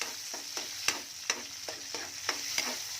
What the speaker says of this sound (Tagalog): ginisa ko muna ang bawang, sibuyas. Sinunod ko ang kamatis